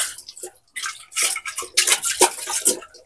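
Water splashes and runs inside a transparent glass electric kettle being rinsed, in irregular bursts of sloshing and trickling with brief pauses, close and fairly loud.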